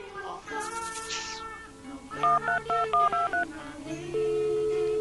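Telephone dialing tones in a Brazilian animated film: a quick run of about seven short keypad beeps, fairly loud, after a stretch of music, followed by a long steady tone.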